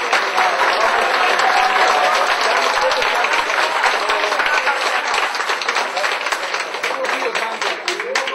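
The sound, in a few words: audience applause at company anniversary celebration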